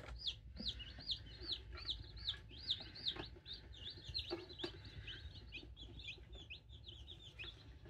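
Newly hatched chicks in an incubator give a rapid series of high, clear peeps that repeat steadily and fairly close, over a low background hum.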